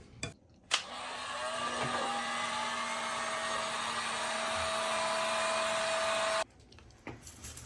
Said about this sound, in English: We did the heat gun, we let it cool down for a second.